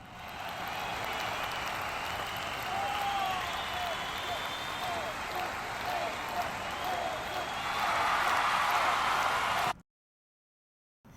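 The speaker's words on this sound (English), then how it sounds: "So here with the applause, let's just solo that and play it." An applause sample plays soloed: a steady wash of crowd clapping and cheering that swells slightly toward the end, then cuts off abruptly into silence.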